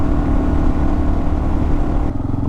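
A Kawasaki KLR650 single-cylinder motorcycle with a JD tuner cruises at steady speed, its engine a loud, close, constant drone with wind rush and no speech.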